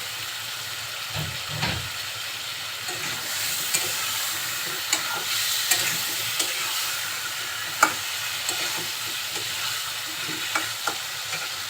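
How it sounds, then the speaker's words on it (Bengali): Potatoes being stir-fried in a spice paste, a steady hissing sizzle with scattered spatula clicks and scrapes as they are turned, close and moderately loud, with no talking. "আলুগুলো এখন মশলার সাথে অনেকক্ষণ ধরে কষাতে হবে নেড়ে চেড়ে খুব সুন্দরভাবে কষিয়ে নেব"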